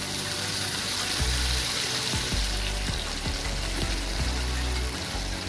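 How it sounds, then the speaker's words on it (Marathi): Roasted chillies sizzle loudly and steadily in a pan as a little water is sprinkled on, with a continuous hiss and a few low thumps and knocks, close and without talk. "आता थोडंसं पाण्याचं चिक्का मारून घ्यायचं"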